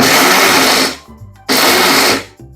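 A mixer grinder powders roasted peanuts in two loud bursts of whirring, each lasting about a second, separated by a short pause in which the motor winds down.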